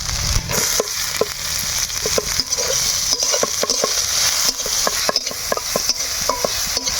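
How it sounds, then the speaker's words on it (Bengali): Chopped garlic and ginger sizzle in white oil as chopped onion is added, a steady crackling fry with frequent sharp scrapes and taps of a spatula stirring the pan, close and continuous, no talking. "আদা রসুন ভাজা ভাজা হয়ে গেলে এই সময় দিব পেঁয়াজ কুচি"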